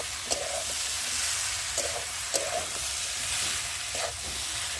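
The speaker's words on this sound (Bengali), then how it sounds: "আর এখন আমি ভেজে রাখা সয়াবিনগুলোকে দিয়ে ভালো করে একটু কষিয়ে নেব" Steady sizzling of fried soybeans in spice masala in a hot pan, with periodic scraping strokes of a spoon stirring them, close and without talk.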